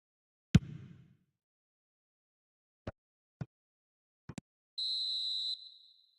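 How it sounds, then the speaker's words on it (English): A referee's whistle in an eFootball match blows one sustained shrill blast near the end, after a few sharp isolated thuds and knocks in otherwise quiet surroundings. "And the whistle's gone, presumably for offside."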